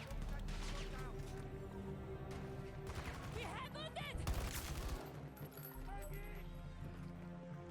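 M5A3 rifle fire in the Battlefield 2042 video game, rapid bursts of gunfire layered over dense battlefield noise and game music, with a sharp loud burst near the middle.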